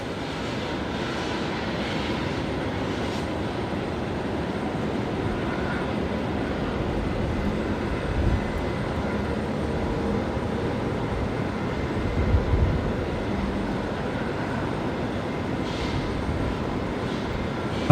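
A Velocity airliner taking off at night from Brisbane Airport, bound for Sydney: a steady, broad jet roar rumbles on continuously at a distance, with only slight swells in loudness.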